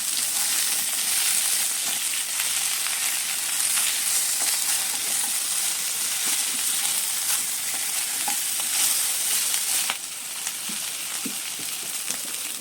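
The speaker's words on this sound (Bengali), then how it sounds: "সব সবজি দিয়ে এবার করতে হবে ভালো করে ভাজা" Mixed vegetables fry in a pan with turmeric and salt as the base for moong dal, giving a continuous close, loud sizzle with scattered light stirring scrapes throughout.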